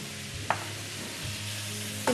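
Chopped onion hits a hot pan of softened vegetables for an Albanian potato and rice casserole, giving a steady, close sizzle with a couple of sharp utensil knocks.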